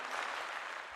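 An audience claps for a livestream talk show moderator, steady dense applause from many hands at moderate loudness, alone without talk.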